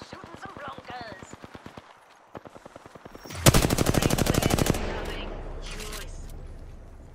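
Rapid automatic gunfire from a weapon in Apex Legends, a dense sustained burst loud and close, preceded by spaced single shots and followed by lingering game ambience, with a voice talking early on.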